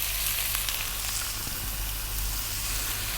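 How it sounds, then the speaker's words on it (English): Chopped onions, cut small, frying in oil in a pan over above-medium heat, giving a steady, close sizzle that runs unbroken throughout with no talking. "Then we're going to go in with a cup of onions cut nice and small. I'm on an above medium heat."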